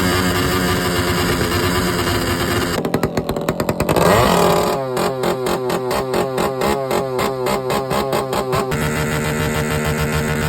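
Motorcycles, including a Raider, rev hard at a loudest-pipe contest at a motor show, loud snarling exhaust blasts with rapid throttle pulses and sputtering bursts, overlapping engines close by throughout.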